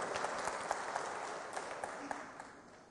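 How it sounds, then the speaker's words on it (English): Audience applause at the International Congress of Mathematicians 2010 in Hyderabad, a steady crowd of clapping hands with a few sharper individual claps standing out, gradually fading near the end. "Well-deserved applause."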